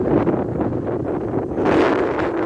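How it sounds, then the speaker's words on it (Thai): Strong, continuous wind rushing and roaring close to the microphone at a waterfall, swelling louder in a gust partway through, with no talking. "ฟังเสียงลมหลดพี่น้อง"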